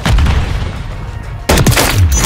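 AK-50 rifle fire in Modern Warfare, a close, loud stretch of heavy gunfire ending in a sharp burst of shots.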